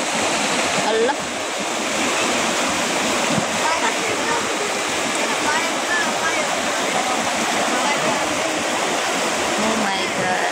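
Floodwater rushing after a typhoon, a loud continuous roar of fast-flowing water like a torrent, steady and close throughout with no pauses.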